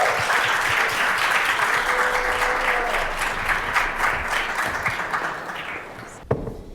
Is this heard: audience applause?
yes